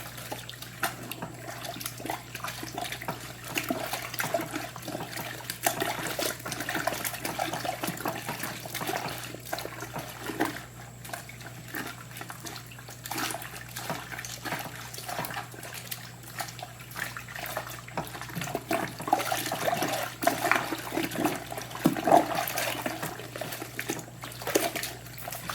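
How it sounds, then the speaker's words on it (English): Hot water sloshing and dribbling in a basin while knitted fabric is felted by hand, a steady wet churning with trickles that runs throughout at a moderate level, with no talk. "I am slopping quite a bit more water than usual"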